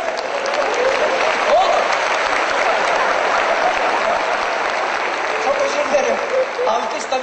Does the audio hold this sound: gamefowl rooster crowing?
no